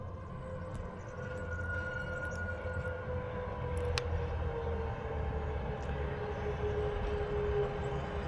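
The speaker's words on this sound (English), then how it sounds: "Must be an earliest train that I've seen, that." A train coming down a hill in Spain sounds from a distance with a faint steady rumble and a long, sliding tonal whine over low outdoor background noise.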